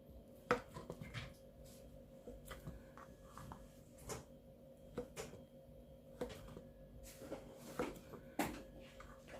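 Quiet, repeated knife taps on a cutting board while slicing sausages, a steady chopping rhythm of separate strokes close by, with no talking.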